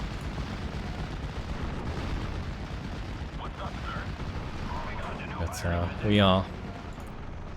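An off-map artillery strike rumbles and booms in a Steel Division: Normandy 44 battle, a steady roar of distant shelling with a louder burst near the end while a voice talks over it.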